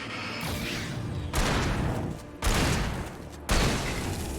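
Shotgun blasts in the video game Alan Wake, three loud booming shots spaced about a second apart over a dense, continuous wash of in-game noise.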